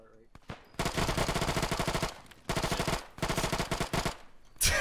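Automatic gunfire in Arma 3, rapid machine-gun bursts rattling loud and close in three long strings separated by short gaps, with a voice briefly heard at the start.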